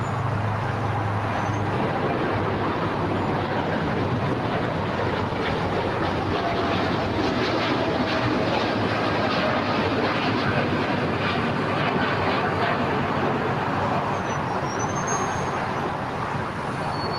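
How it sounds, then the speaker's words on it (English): An American Airlines Dreamliner departs LAX, a steady broadband jet roar that holds loud and constant throughout, heard from a distance outdoors with no talking. "departure of the American Dreamliner"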